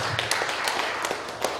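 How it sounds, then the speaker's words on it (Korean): Scattered hand claps ring out in a church thanksgiving service and New Year gathering, a short burst of quick, slightly uneven applause from a congregation. "우리 하나님께 영광의 박수 올립니다."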